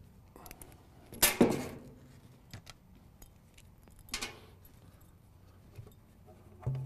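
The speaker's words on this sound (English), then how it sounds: "And then off comes the pan." A Mercedes 722.9 automatic transmission's pan comes off in a workshop, giving a sharp metallic clank followed by scattered light clinks and taps, close and otherwise quiet, with a final knock near the end.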